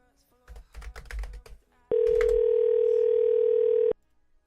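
A telephone tone on an outgoing call sounds as one steady, loud, two-second tone after a burst of keypad presses or clicks, with faint talk around it.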